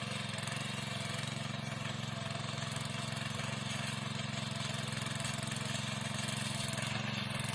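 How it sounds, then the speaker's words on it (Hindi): Petrol-powered power tiller, also called a power weeder or small tractor, used on terraced hill farm fields, its engine running continuously with a loud steady droning rumble close by, no talking. "यह यंत्र है पावर टीलर, कोई पावर वीडर भी इसको कहते हैं।"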